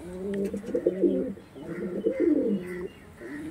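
Pure Arshad line pigeons cooing up close, soft repeated throaty coos rolling in short phrases, with faint chirps in the background.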